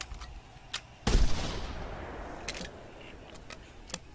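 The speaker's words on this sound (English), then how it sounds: "Why exactly are you shooting a 12 gauge at like 400 yards?" A 12 gauge shotgun fires once in a hunting video game, a sharp loud blast followed by a long fading rumble, with faint ticking clicks before and after.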